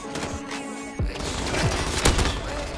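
Rapid gunfire from a weapon in the shooter video game Modern Warfare, with dense bursts of overlapping shots and booming impacts filling the whole stretch, loud and close.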